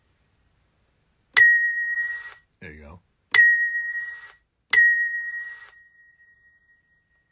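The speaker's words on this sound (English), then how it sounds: "I still think the big Chinese bell would sound crazy." A sampled big Chinese bell with heavy reverb, struck three times, each a bright ringing tone that slowly decays and lingers after the last strike. A short spoken remark falls between the first two strikes.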